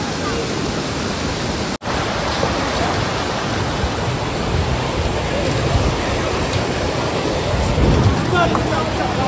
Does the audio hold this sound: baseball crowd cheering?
no